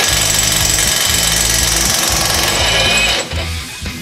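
A Ryobi high-torque impact wrench set to level 1 hammers loudly and close up in rapid bursts while breaking off a nut, then drops away abruptly near the end.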